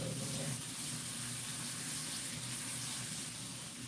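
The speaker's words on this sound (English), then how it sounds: "I want to rinse off this parsley real good." Fresh parsley being rinsed under a running kitchen tap, a steady broadband stream of water splashing into the sink that continues evenly throughout.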